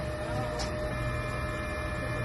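A DTF printer's head area runs with a steady, close electrical hum and a faint tonal whine, broken by one brief click early on.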